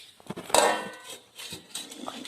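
A metal lid clanks down onto a cooking pot holding grated coconut and sugar in a home kitchen, with one sharp clink followed by a few lighter utensil knocks and scrapes nearby.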